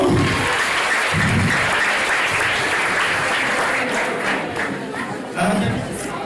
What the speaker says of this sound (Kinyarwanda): tumutange amashyi kwa Yesu.